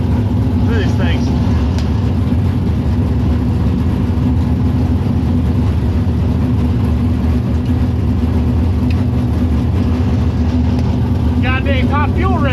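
A car engine with compressed air supercharging runs loud and steady at a drag strip, a heavy continuous drone, with a person talking briefly near the start and end.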